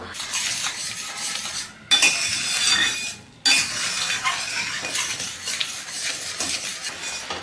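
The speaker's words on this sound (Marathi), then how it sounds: "ती साई पण चमच्याच्या साह्याने आपल्याला काढून घ्यायची आहे आणि दुधातच मिक्स करायची आहे" A metal spoon stirs and scrapes milk being reduced in a pan, producing close, busy scraping and clinking that breaks off twice in short pauses and then carries on steadily.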